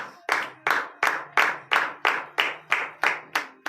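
Congregation at a morning prayer service in Benin clapping in rhythmic acclamation, about ten sharp, evenly spaced claps in unison, loud and close with no talking.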